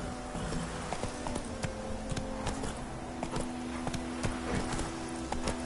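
Roach, a horse in the video game The Witcher 3, gallops with rapid, even clip-clop hoofbeats that run throughout, close and steady over a faint game ambience.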